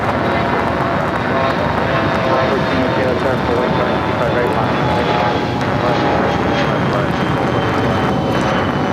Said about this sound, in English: We have the Korean Air Cargo 777 freighter getting ready to take off to Seoul.